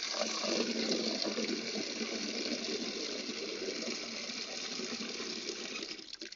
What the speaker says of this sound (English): Now let's go turn some water on and see what we have.